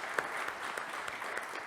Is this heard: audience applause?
yes